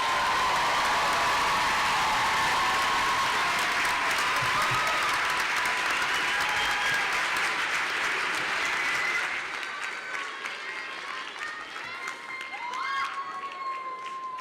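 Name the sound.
commencement audience applause for master's degree awardees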